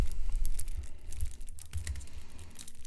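Plastic and paper packaging of a Magic: The Gathering Teenage Mutant Ninja Turtles Team Up bundle with postcards is torn and crinkled open by hand, a close, busy stretch of rustling, ripping and crackling.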